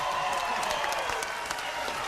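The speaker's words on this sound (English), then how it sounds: "Round of applause for them." Studio audience applause on the Family Double Dare game show, a dense, steady burst of many hands clapping together without a break.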